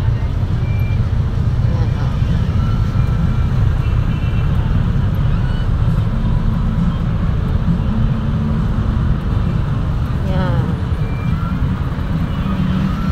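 Heavy, congested street traffic on Taft Avenue in Pasay City, with two lanes narrowed by carts and illegally parked vehicles; a steady, continuous rumble of engines with motorcycles and tricycles, with no single vehicle standing out.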